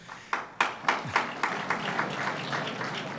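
An audience at a state transportation project announcement claps: a few sharp, separate claps at first, then a brief patter of light applause that quickly thins and fades.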